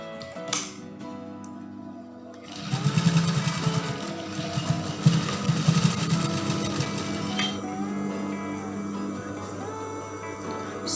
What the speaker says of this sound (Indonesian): Kemudian kita jahit bagian jahitan ini.